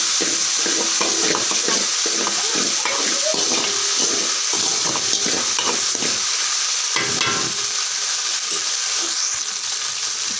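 Boiled carrots and beans sauté with pepper in a pan for homemade pasta, giving a loud, continuous sizzle broken by frequent close scraping and stirring strokes.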